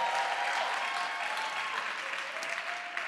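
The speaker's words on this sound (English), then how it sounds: "Can we give them a cheer for their hard work?" A conference audience in Cape Town applauds steadily for about three seconds, a dense, even wash of clapping with a few cheers mixed in, heard alone without speech.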